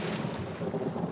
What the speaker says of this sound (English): when the rain chucks it down outside, it also pours inside